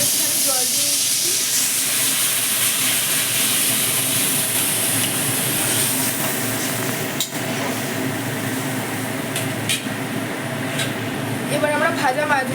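Water poured into a hot pan of Parshe fish curry with spices, salt and sugar, giving a loud, continuous steamy sizzle and hiss that carries on steadily, with a few clanks and someone talking over it.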